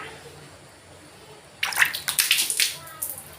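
Water splashes and runs in bursts as a washed item is rinsed off, starting after a quiet moment and continuing in uneven gushes, close and fairly loud.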